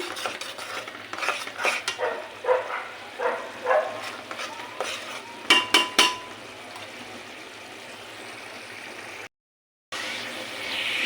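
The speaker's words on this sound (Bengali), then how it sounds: "মশলাটা কষানো হচ্ছে, তেল উপরে চলে আসছে।" Masala spices are stir-fried in oil, with rhythmic spatula scrapes and clinks against the pan over a low sizzle, several sharper knocks midway, then a short silence and a steady hiss.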